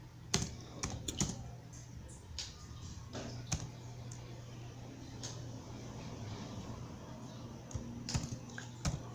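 Close typing on a computer keyboard, a quick irregular run of key clicks with a few louder sharp taps, over a steady low hum of room noise.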